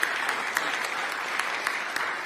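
Audience applause for the city's Secretary at a mayoral announcement of an anti-graffiti and beautification project in Philadelphia, a steady, moderately loud wash of clapping from a crowd, lasting briefly on its own.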